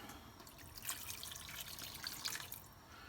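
Water is poured into a pan of British chicken tikka masala curry, giving a quiet, splashy trickle that swells briefly twice and is heard alone.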